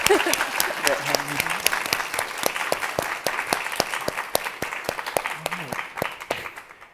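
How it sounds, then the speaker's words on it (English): Audience applause at the 2026 Planet Forward Summit, a steady round of many hands clapping close and loud for about seven seconds, with a few voices calling out underneath before it tapers off. "Just a round of applause for Mariel."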